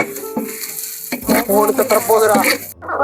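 Onions frying in oil in a pan for New Year noodles, a steady broadband sizzle with stirring scrapes, then a louder burst of crackling frying before a sudden cutoff; a voice with a musical tone rises over the middle section.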